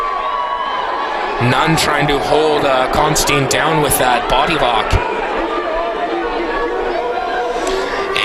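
Crowd at a grappling match, with fans cheering behind fighter Nunn, forming a steady murmur and chatter beneath a commentator's continuous talk, with a few louder shouts and a sharp thud midway.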